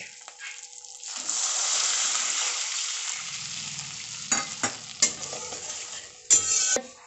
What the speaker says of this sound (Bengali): এবার এর মধ্যে আমি পরিমাণ মতো জল অ্যাড করছি